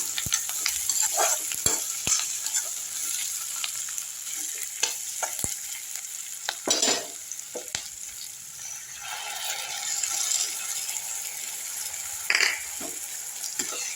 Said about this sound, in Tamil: அடுத்து இஞ்சி பூண்டு பேஸ்ட்டு போட்டுடலாம் வதங்கிடுச்சு வெங்காயம்